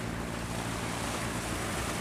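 Bình Định fishing boat pushing out to sea through waves, a dense steady roar of surf and wind with a low engine drone beneath, loud and unbroken, no talk.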